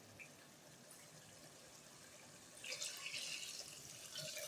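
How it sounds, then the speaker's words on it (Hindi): Water pours from a vessel into a pot of mutton haleem with cooked, softened tomatoes, a faint trickle that swells into a brighter, steady splashing stream partway through, heard alone at close range. "इसमें 3 पाव पानी डाल रही हूँ।"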